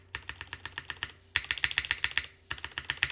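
Spacebar and keys on a Constance TKL mechanical keyboard clacking in quick, even runs of sharp presses, close and loud, with a brief pause midway and no voices.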